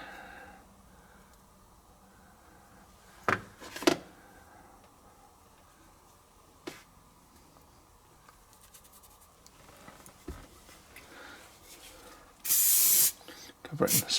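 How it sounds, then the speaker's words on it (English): A short burst of spray adhesive hisses from an aerosol can near the end, following scattered clicks and taps in a quiet room. "Cover it in spray adhesive."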